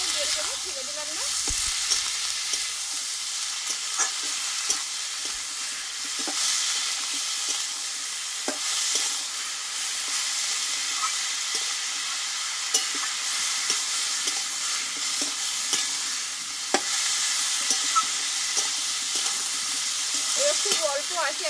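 Ash gourd sautés in a pan with a steady, close frying sizzle, broken by scattered clinks and scrapes of stirring throughout, with no talking.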